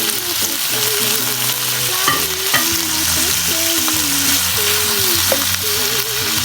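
Ampalaya and beef frying in a pan while being stirred: a steady loud sizzle under scraping stirs, with a few sharper clinks of the utensil, no talking.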